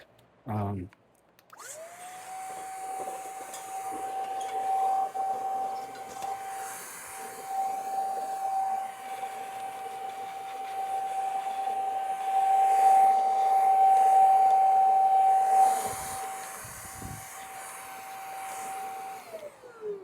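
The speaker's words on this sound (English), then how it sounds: "This little mini vacuum is like super handy." A handheld mini vacuum cleaner whirs steadily for most of the stretch after a short start, a high motor whine holding constant close by, then it winds down near the end.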